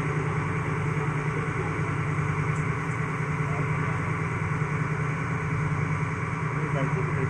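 Twin diesel engines of a fishing boat run at Harihareshwar beach, a loud, continuous low drone that stays steady throughout, with voices talking over it.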